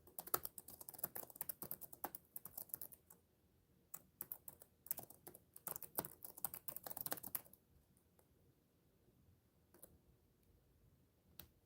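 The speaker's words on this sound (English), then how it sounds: "Just typing out the options here." Bursts of rapid computer keyboard typing, close and clicky, with short pauses between flurries, then a quieter stretch with only a few stray taps.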